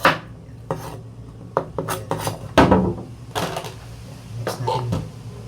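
A knife chops ingredients for kaldereta on a cutting board, a series of irregular sharp knocks and scraping cuts spaced across the moment, fairly close, with light kitchen clatter between strokes.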